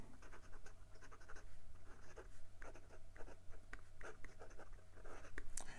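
A Lamy Dialog cc fountain pen writing in reverse on paper makes a soft, close scratching that comes in short, uneven strokes throughout, with no talking.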